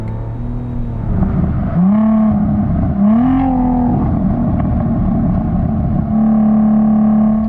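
An Audi TT with a 3.2-liter 24-valve VR6 engine revs repeatedly, each blip rising and falling in pitch before a steady higher idle, loud and close with no talking over it.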